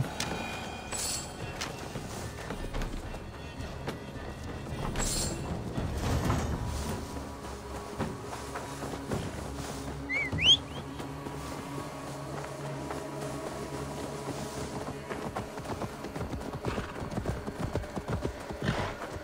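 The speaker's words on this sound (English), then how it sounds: "Now to deliver Magni his horse." Steady clip-clop of horse hooves trotting at an even pace in Assassin's Creed Valhalla, with a brief whinny midway over a busy, layered game soundscape.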